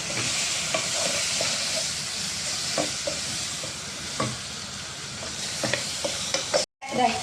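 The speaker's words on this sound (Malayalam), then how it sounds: "ഒരു 2 സ്പൂണ് ബീഫ് മസാലപ്പൊടി ഇതും കൂടെ കൂട്ടി നമുക്ക് നല്ലവണ്ണം വഴന്ന് എടുക്കാം" Beef masala spice powder sautéed in a pan sizzles steadily, with repeated scraping stirs of a spoon scattered across the continuous frying hiss and no speech.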